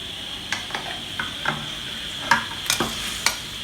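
Beef goes into a curry pot and is stirred as it fries, with a soft sizzle underneath and a series of sharp spoon scrapes and clanks against the pot at irregular intervals.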